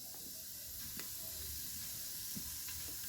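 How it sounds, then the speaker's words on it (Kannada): Fennel seeds sizzling in hot oil in a pressure cooker while making tomato bath, a faint, steady frying hiss with a few small pops and crackles. "ಈಗ ಮೊದಲಿಗೆ ನಾನು ಕುಕ್ಕರಿಗೆ ಸೋಂಪು ಹಾಕ್ಕೊಳ್ತಾ ಇದ್ದೇನೆ"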